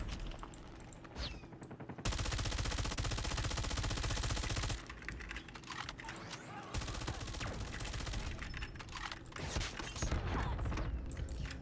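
Automatic weapon fire in the mobile shooter Call of Duty Mobile, long loud sustained bursts broken by short quieter gaps, with occasional muffled talk.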